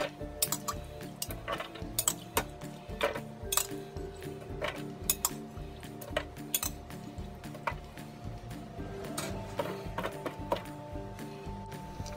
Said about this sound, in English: using a slotted spoon, place your carrots on the bottom of your roaster